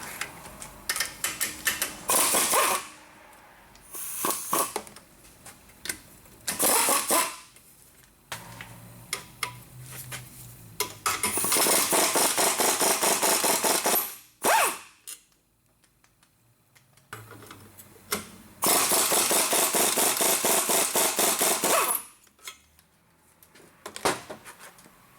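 An EGR tube wrenched off a car engine, with bursts of rapid clicking ratchet strokes, some long and some short, separated by quiet gaps and a few metallic knocks.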